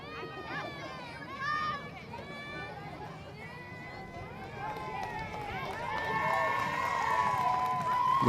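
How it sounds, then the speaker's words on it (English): A crowd in the stands at a high school softball game cheers and chatters, children's voices and shouts rising and falling in a lively babble that swells toward the end. "The crowd's loving it."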